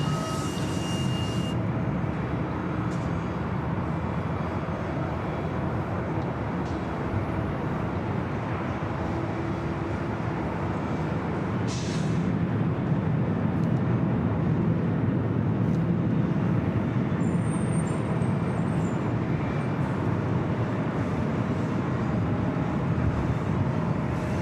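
An aircraft takes off from runway 24 left at Los Angeles International Airport, a steady, loud broadband roar that holds with little change throughout.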